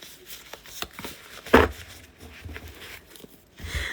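Soft riffling and slapping of tarot cards being shuffled by hand, with one sharper snap midway and a rustle at the end, no talking.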